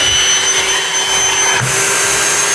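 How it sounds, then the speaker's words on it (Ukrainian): A Milwaukee M18 FBPV cordless vacuum cleaner runs on its lowest setting, giving a loud, continuous high-pitched whine and airy roar that stays steady throughout, with a slight shift midway. "вмикаю його на перше положення, не на максимальне, на перше положення"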